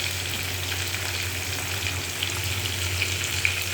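Okra and potato frying together in oil in a pan with salt, a steady close sizzle that holds level throughout with faint crackles and pops, no voices.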